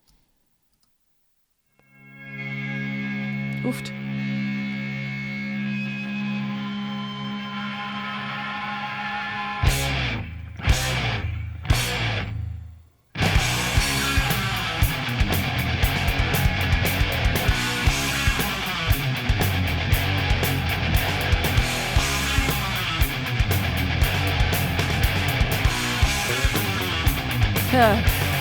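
A quiet sustained intro gives way to a few sharp hits, then a dense, loud, fast thrash metal track with driving drums and distorted guitars.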